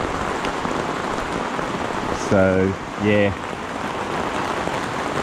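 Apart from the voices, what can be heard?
water soaking Dune 4WD King Titan swag canvas like rain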